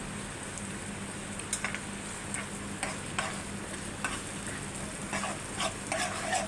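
Garlic cloves and ginger-garlic paste fry in oil for a chicken capsicum fry, making a soft, steady sizzle with a few scattered spatula taps and stirring scrapes, fairly quiet and without talk.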